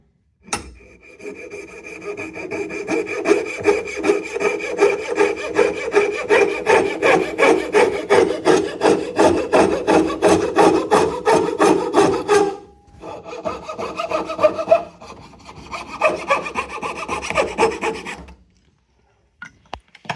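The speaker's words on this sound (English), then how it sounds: "That's just a rough cut to get most of the wood off." A coping saw rough-cuts wood with rapid, rhythmic back-and-forth rasping strokes, close and loud. It pauses briefly, resumes with a lighter stroke pattern, then stops. No talking is heard.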